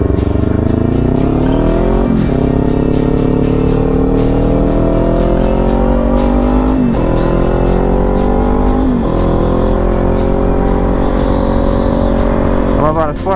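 A Kawasaki Z400 sport bike's engine drones loudly and close while riding, rising in pitch through several gears with brief drops at each shift, and a voice talks over it.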